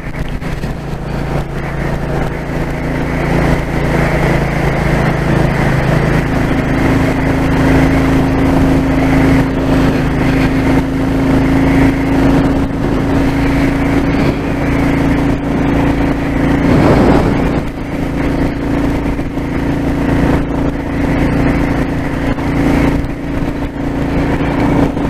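Royal Enfield 350 Classic Chrome motorcycle engine holding a steady cruising drone while riding along a road, loud and continuous throughout with a low hum that shifts pitch slightly partway through and wind noise on top.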